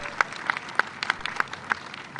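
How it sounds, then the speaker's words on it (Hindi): Sparse, evenly spaced claps from a small crowd welcoming a speaker at a community gathering in Madhya Pradesh, a handful of sharp hand claps about three per second rather than a full ovation. "आप लोग तालियां बजाकर स्वागत कर दे"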